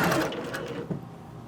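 A sewing machine runs a seam on a shirt at a 3/8 inch allowance, its quick close mechanical whir humming steadily and then easing off toward the end.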